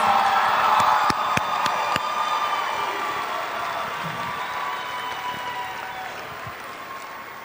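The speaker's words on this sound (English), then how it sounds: "Let's give one more round of applause as the last graduates are making it to their seats." A crowd applauds at a Highland Park High School graduation ceremony in Topeka, with steady clapping and a few scattered cheers and whoops that gradually fade.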